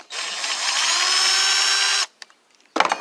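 A power tool whirs steadily and up close for about two seconds as it drives bolts out of a GM 10SI alternator, followed by short clicks and a final brief burst.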